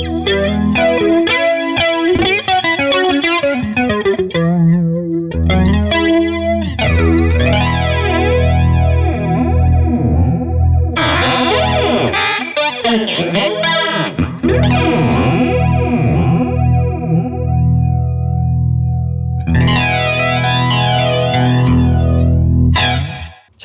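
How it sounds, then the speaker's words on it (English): Boss MD-200 modulation pedal set to flanger on electric guitar: a continuous run of strummed and picked chords with a sweeping, jet-like whoosh, loud and unbroken with no talking. "So that sounds like a pretty typical flanger to me."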